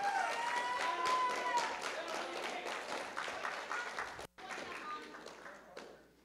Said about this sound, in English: Let's give a round of applause for Spider-Man real quick.